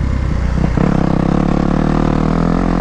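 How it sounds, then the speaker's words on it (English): A Kawasaki KX250X dirt bike engine runs loud and close at high revs on a trail ride, holding a steady buzzing drone with a slight rise partway through. "It definitely is a bike that likes to be revved out."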